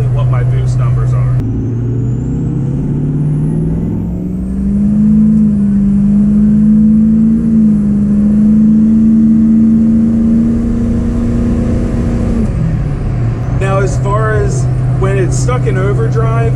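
A 6.0 Powerstroke diesel pickup with an upgraded turbo drives under steady load, its loud engine drone holding continuously and rising slightly in pitch through the middle before settling back, with a faint high turbo whine over it.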